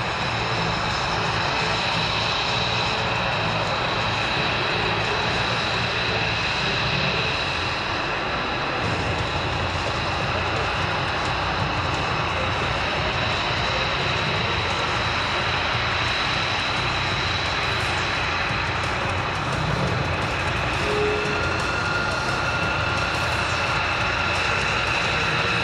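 A Boeing C-17 Globemaster III military jet at an airshow gives off a loud, steady engine roar that holds for the whole stretch, broad and unbroken with no voices.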